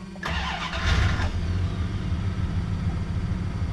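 The engine of a 1991 Dodge 250 campervan catches with a short starter burst and then settles into a low, steady idle rumble, close and alone with no talking.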